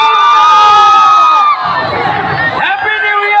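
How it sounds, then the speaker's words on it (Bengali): Crowd at the opening of a flower fair on New Year in Kakdwip shouting and cheering together, a loud sustained roar of many voices with whoops and children's shouts, easing slightly midway then swelling again. "সবাই জোরে একটু চিৎকার হবে"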